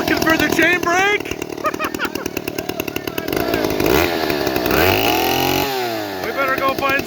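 A Stihl 090 chainsaw roars loud and close, its engine revving and surging continuously while voices talk over it.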